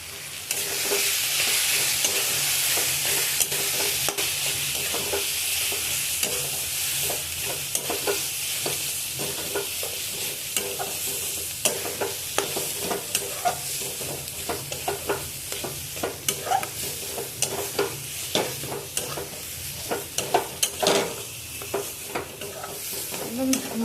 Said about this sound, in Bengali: ভালো করে মিক্স আপ করতে হবে।